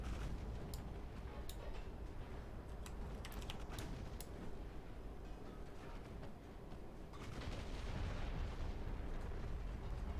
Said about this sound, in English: Open up with your main battery guns